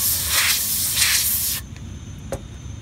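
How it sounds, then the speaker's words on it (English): A spray can of cleaner hisses at the front of a mechanical fire alarm horn in a loud continuous burst that swells twice, then stops abruptly, leaving quiet room tone and a faint click. "After that, sometimes I'll spray down the front"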